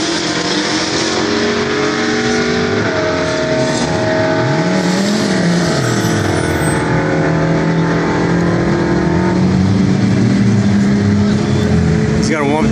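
A blue Toyota Supra MK4 with a single turbo idles and revs loudly at San Antonio Raceway, its engine drone rising and falling in pitch over a steady, constant roar, with people talking in the background.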